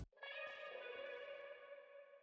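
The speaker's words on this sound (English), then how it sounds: "where I have a tape echo and rev spring reverb, and putting it back into my overall guitar track to get this final sound." Guitar sample fed through tape echo and spring reverb in an R&B production, a sustained, warm wash of tone that starts abruptly and rings on with blurred, repeating tails, heard alone.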